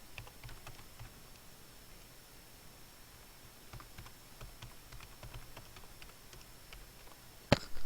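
Light, steady keystrokes as a date is typed on a computer keyboard, faint and evenly paced clicks, then a single sharp louder click near the end.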